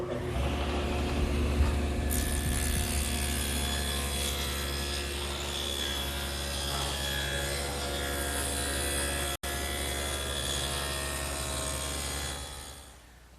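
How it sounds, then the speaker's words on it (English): A table saw fitted with a dado blade cuts a quarter-inch-wide groove in wooden stock with a loud, continuous whirring grind. There is a momentary dropout partway through, and the blade winds down at the end. "I've set up the table saw with a dado blade, which can be adjusted for varying widths"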